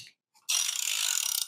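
The crankshaft of a J series engine is turned by hand during a teardown: a brief quiet knock, then a fast, close run of ratcheting clicks lasting about a second.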